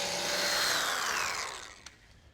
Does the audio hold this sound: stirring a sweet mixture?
no